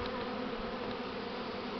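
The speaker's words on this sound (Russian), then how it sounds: "Пчела такая светленькая. О, прямо на камеру кидается." Buckfast bees buzz around an apiary hive, a dense, continuous droning hum close by with individual insects passing near, no voices.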